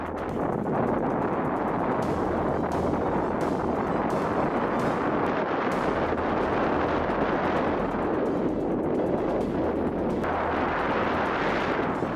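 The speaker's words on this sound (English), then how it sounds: "Lava fountains shoot high during the second eruption phase of Piton de la Fournaise" Lava fountains erupting at Piton de la Fournaise volcano give a steady, dense roar with no break, heavy with wind buffeting and deep rumble.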